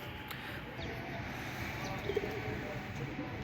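Faint, low cooing from pigeons, including Bombay pigeons, at a home loft outdoors, mostly buried in a steady wash of ambient noise.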